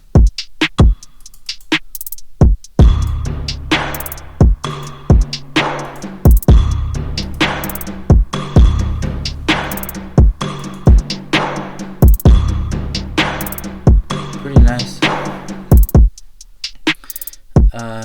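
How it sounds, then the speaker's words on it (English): A programmed beat plays a steady kick and snare pattern with pitched-up hi-hats ticking rapidly between them, loud and up front, over a sampled melody from a Squid Game soundtrack flip, with no speech. "Here's a basic kick, my snare. I like these little hi-hats that are like pitched up."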